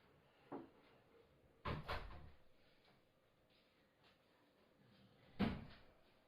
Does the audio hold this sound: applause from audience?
no